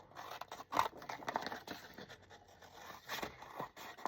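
Scissors trim a craft tag with soft, close snipping and scraping, several quiet cuts spread over a few seconds.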